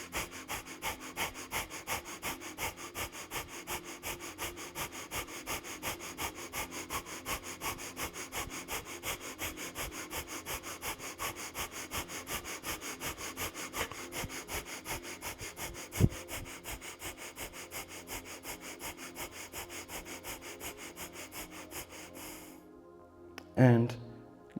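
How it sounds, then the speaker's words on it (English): Breath of fire in Kundalini yoga, rapid rhythmic forceful exhalations through the nose repeated evenly for over twenty seconds, close and steady, ending with a deeper breath. "begin breath of fire"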